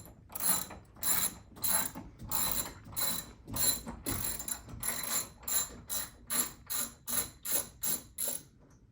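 Lag bolts are backed out of a pinball machine's wooden shipping crate, giving a close, rhythmic series of ratcheting clicks in quick regular strokes, around twenty in a row, with no talking.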